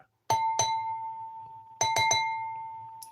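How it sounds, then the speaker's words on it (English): A crystal wine glass is struck by a large wand, ringing out in two pairs of clear clinks, each leaving a long sustained tone that slowly fades in an otherwise quiet room. "I accidentally hit my wine glass with my unusually large wand."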